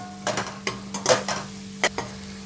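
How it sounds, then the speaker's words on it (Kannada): Chopped onion and curry leaves fry in oil in a pan, with a low sizzle broken by sharp clicks and scrapes of a spoon stirring against the metal. "ಮೊದಲು ಇದಿಷ್ಟನ್ನು ಚೆನ್ನಾಗಿ ಫ್ರೈ ಮಾಡ್ಕೊಳ್ಳೋಣ. ಸ್ವಲ್ಪ ಆನಿಯನ್ನು ಫ್ರೈ ಮಾಡ್ಕೊಳ್ಳೋಣ."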